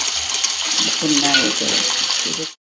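Chopped onion and tomatoes frying in a pan, giving a steady, close sizzle with a few soft scrapes and stirring clatters partway through, heard alone before it cuts off.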